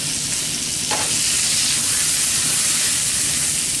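Vegetables stir-frying in a hot pan for salmon teriyaki, a steady close sizzle and hiss that runs through the whole stretch with a brief stir near the start.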